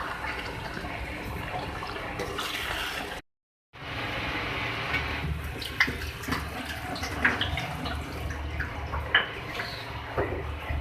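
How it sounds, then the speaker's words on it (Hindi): Water poured into chicken bhuna masala as it cooks, a steady splashing wash running for several seconds alone, with a brief gap and then continued bubbling and small clinks from the pot. "चिकन को थोड़ा मज़ीद गलाने के लिए इसमें वाटर ऐड कर रही हूँ मैं"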